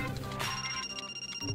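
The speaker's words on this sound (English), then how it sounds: "A phone?" Telephone rings within The Silver Case video game, a single short electronic ring tone heard over background game music, fairly clear and close.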